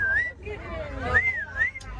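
A person whistles a few rising and falling notes aboard an open safari truck, clear and close over a low engine rumble and faint crowd murmur.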